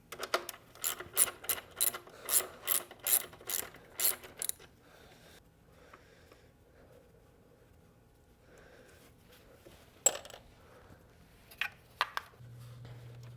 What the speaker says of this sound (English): So I'm putting all the manifold bolts in a separate cup.